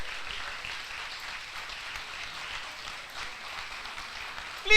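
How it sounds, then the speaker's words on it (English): Guests at a physiotherapy induction ceremony give soft, distant applause for the new graduates, a steady wash of clapping that stays faint throughout. "Please clap for them."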